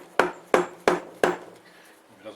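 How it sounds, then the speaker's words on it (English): Four sharp, evenly spaced knocks from a dead blow hammer striking the gearbox casing of a Nissan Patrol during a reduction gear install, close and solid, followed by quiet. "So I'll start off with the dead blow hammer first,"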